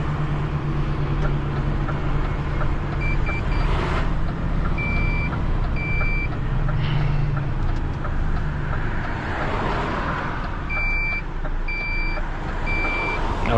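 Reversing warning buzzers on a 26 tonne recovery lorry sound in short repeated bursts over a steady engine drone, clear and close, with a few pauses between sequences.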